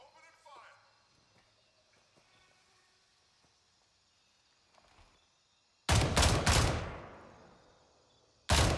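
Gunfire in a shooter video game: quiet stretches with faint movement and brief talk, then a loud burst of rapid shots with a decaying echo, and another loud burst at the very end.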